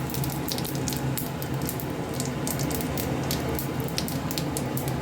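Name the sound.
whole cumin seeds sizzling in hot oil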